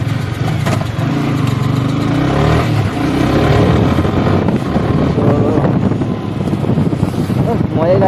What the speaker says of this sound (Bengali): মজাই লাগে R15 চালাতে।